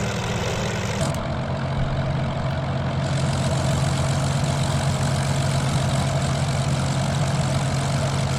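A Curtiss P-40B Tomahawk radial engine idling in Microsoft Flight Simulator, loud and heavy, heard from outside as a constant low throbbing drone with a rough, pulsing texture.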